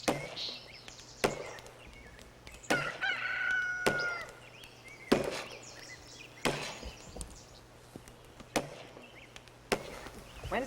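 A rooster on an 1870s-style pioneer homestead crows once at middle distance, while sharp wooden chopping knocks land every second or so throughout and a faint voice comes in now and then.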